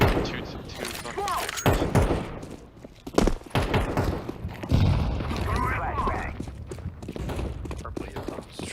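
Flashbang grenade and gunfire in a shooter video game, with repeated booms and sharp bursts of shots, footsteps and movement, all under people talking loudly over it.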